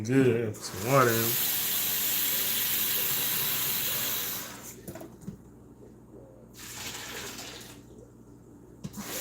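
Water runs steadily from a tap into a container as a sustained hissing rush for several seconds, then fades and turns intermittent, with a voice briefly heard at the start.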